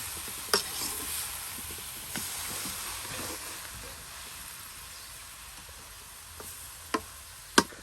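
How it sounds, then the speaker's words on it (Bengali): Leafy greens stir-fried with fried onion and garlic make a soft, steady hiss, with a few sharp utensil taps against the pan near the start and end. "আপনার ভেজে নেওয়া পেঁয়াজ রসুনে এখন এই যে শাকগুলো উলট পালট করে নিলেই কিন্তু এক মতন হয়ে যাবে শাকবাজি।"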